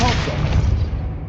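Spell cast in the video game Hogwarts Legacy: a dense, booming magical blast that swells loudly and holds for over a second before thinning out, with a faint voice at the very start.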